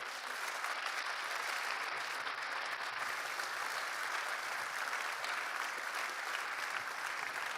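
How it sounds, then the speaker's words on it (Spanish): A church congregation applauds continuously, a dense, even wash of clapping that holds steady from start to finish. "Denle un fuerte aplauso al Señor"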